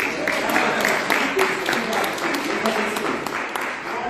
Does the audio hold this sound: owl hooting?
no